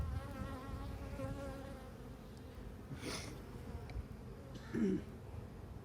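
Honey bees buzz and fan their wings at an apiary hive, a faint, continuous droning hum with a brief louder buzz passing close near the end.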